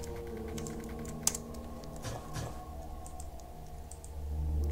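Keyboard typing in the horror game TRTF: The Storyteller's Son: a steady run of quick key clicks over a low droning game ambience, with one sharper click near the start and a rising rumble at the end.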